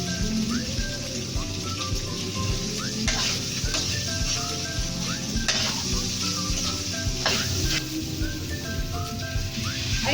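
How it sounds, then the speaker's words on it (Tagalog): Cooked mung beans being stirred into sautéed ingredients for ginisang monggo, a continuous sizzle and wet crackle with periodic scraping strokes of the spoon, close up and with no voices. "I added the cooked munggo beans and mixed them with the salted ingredients"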